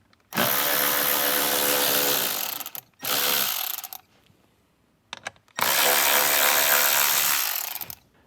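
Power driver whirring as it backs out screws from the steering column trim of a 2024 Jeep Wrangler JL, loud and close, in three sustained bursts separated by brief pauses, with no talk.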